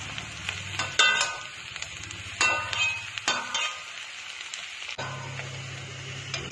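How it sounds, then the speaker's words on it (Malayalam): Sliced onions sizzle in hot oil in a pan, a steady crackling fry broken by several sharp clanks and scrapes of stirring, heard close and alone. "രണ്ട് പ്രാവശ്യമായിട്ടാണ് സവാള ഫ്രൈ ചെയ്തെടുക്കുന്നത്."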